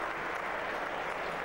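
An audience at a table tennis match applauds, a steady wash of clapping that stays loud and even throughout.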